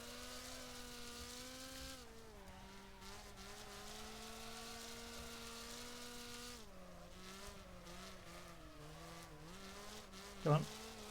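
Race car engine in Wreckfest drones steadily throughout, pitch stepping with gear changes, capped by a brief sharp tire skid near the end.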